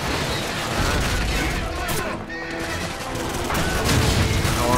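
Shotgun fire in the video game Call of Duty 4, dense loud blasts and booming noise filling the whole clip, with a voice mixed in.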